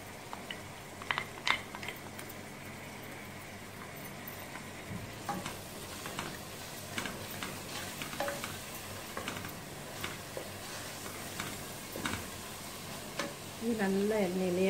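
Ground masala sautéing in oil for mutton biryani, a low continuous sizzle with scattered soft ticks and scrapes of stirring, fairly quiet and close, with a brief voice-like tone near the end.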